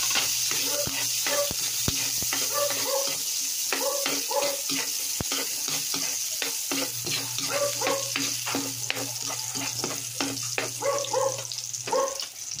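Garlic frying in a little cooking oil in a pan, a steady sizzle with stirring scrapes and clicks of a utensil over a low background hum, close and fairly loud throughout.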